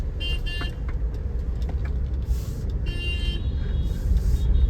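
Tata Punch with a 3-cylinder engine pulling away gently in heavy traffic, a steady low engine hum under constant road and traffic noise, with faint horn toots in the distance.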